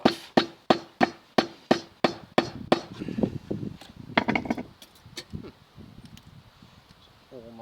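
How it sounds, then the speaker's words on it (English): Lump hammer blows knock stuck aluminium off the rim of a crucible: about ten sharp, evenly spaced metallic strikes, then scraping, clatter and a few lighter knocks. "Lump hammer it off."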